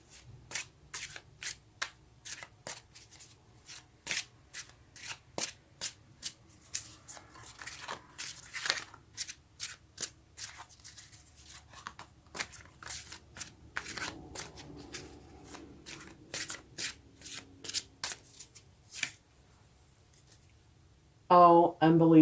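Tarot cards being shuffled by hand, a long run of quick papery riffles and taps close by, mostly alone with a short louder burst at the end.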